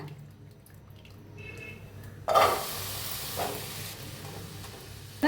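Fresh green beans tossed into a hot, dry pan on a gas stove for roasting give a sudden loud hiss and sizzle partway through, followed by steady crackling and occasional stirring scrapes, close up after a quieter start, no voices.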